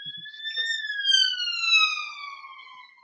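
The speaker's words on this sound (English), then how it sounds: "as we wait for yet another siren to go past" An emergency vehicle siren passes outside, a loud rising-and-falling wail that swells and then fades as it moves away, heard alone with no talking.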